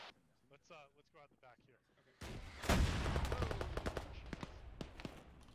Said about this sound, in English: That was an RPG.